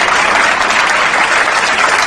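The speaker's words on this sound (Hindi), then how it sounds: "और तालियां बजती रहनी चाहिए।" Studio audience applause on the Indian quiz show Kaise Bane Crorepati after a correct answer, a dense, steady wash of many hands clapping loudly throughout, with no speech over it.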